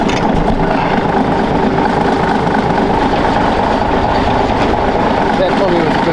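A 1987 ERF 380C truck with a Cummins diesel engine and new batteries idles after a cold start, a loud, continuous, steady rumble with a rough mechanical clatter that fills the whole stretch without pause.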